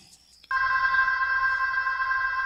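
Telephone in a school teachers' room rings in a radio drama, starting abruptly after a brief quiet moment and continuing as a loud, steady electronic ring with no voices over it.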